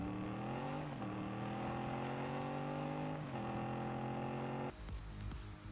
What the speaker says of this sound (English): The Firebird has a really nice sound though.